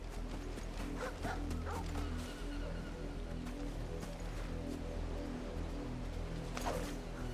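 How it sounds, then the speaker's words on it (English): A dog barking in the video game Final Fantasy XVI: a few short barks and yips near the start and again near the end, set over a steady low musical drone from the game. "Oh, that's my dog."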